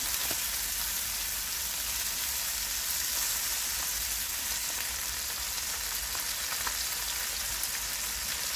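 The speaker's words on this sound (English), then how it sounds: "I'll let it cook until it's like a little brown at the bottom. And then I'm gonna give it a little stir." Coco belly fish, also called Guyana or Berbice fish, frying in a pan with a steady, dense crackling sizzle that stays close and even throughout, with only faint occasional ticks.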